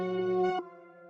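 A twist synth preset from a sample kit plays a sustained, tonal pattern with a dark textured character, a rich held tone that shifts partway through and then rings on more quietly, with no voices.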